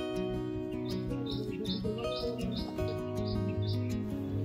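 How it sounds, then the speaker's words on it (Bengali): Many kinds of birds singing in a garden, bright repeated chirps and tweets over a steady dense background hum, moderately near, no talk. "বাগান থেকে শোনা যাচ্ছে বহু রকমের পাখির সুন্দর সুন্দর কলতান।"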